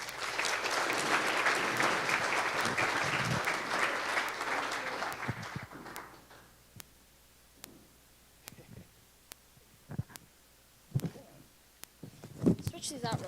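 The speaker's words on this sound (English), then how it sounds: "Can we give Clay a round of applause?" An audience claps and cheers loudly for a speaker at a Sunrise Movement event in Asheville. The applause runs for about five seconds, then fades into scattered sharp knocks and handling sounds.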